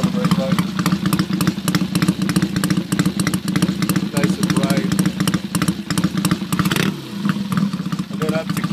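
A Triumph T100 Bobber motorcycle idles close by with a steady, evenly pulsing engine beat that holds throughout, briefly shifting midway, while someone speaks a few words over it.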